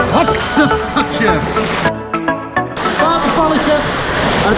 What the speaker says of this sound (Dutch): Watervalletje.